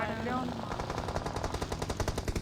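Rapid automatic gunfire in a shooter video game, sustained bursts of loud shots filling the whole moment, with game ambience underneath.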